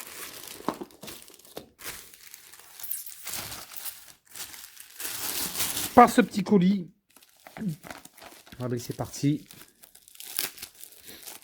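Package from an online order being unwrapped, its bubble-wrap and plastic packaging crinkling and tearing in bursts near the microphone while someone talks in French between the handling sounds.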